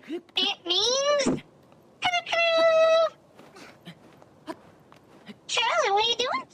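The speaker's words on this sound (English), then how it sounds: "Charlie, what are you doing, kitty?" A pet cat meows several times indoors, drawn-out rising and falling cries in three bursts, close and clear, with quiet gaps between.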